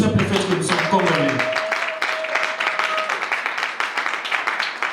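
Clapping starts as a voice trails off, a wedding crowd applauding steadily for a few seconds at moderate volume.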